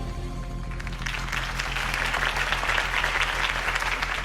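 Dense crowd applause rises after a second and keeps going steadily, loud and close, as the crowd cheers Harvey Dent's campaign speech in Batman: The Telltale Series.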